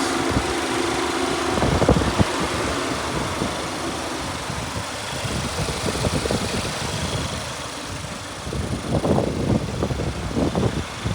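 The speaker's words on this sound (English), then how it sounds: "Here's the motor, nice and clean, nice and quiet." A steady, low Audi A6 engine hum idles on for the whole stretch, fairly quiet and even, with faint mechanical ticking and a few brief surges in level.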